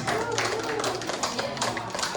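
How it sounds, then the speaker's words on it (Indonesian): An audience at a teachers' learning-community session gives the speaker a brief, dense round of applause, with many hands clapping close together at a steady level. "mari kita beri tepuk tangan yang meriah"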